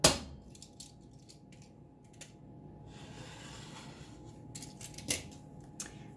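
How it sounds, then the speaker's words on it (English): Fabric has its selvage edge trimmed off during patchwork block cutting for a minky blanket: a sharp cut at the start, then quiet intermittent slicing and rubbing sounds with short bursts near the end. "Now we can go ahead and trim off our selvage edge"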